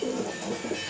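Pigeons in a loft at night give a soft, close, throaty coo lasting about a second.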